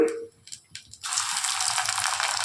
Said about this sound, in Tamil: இப்போ வந்து எடுத்து வச்சுருக்க பிரண்டையை அதில் பொறிச்சு எடுத்துக்கலாம்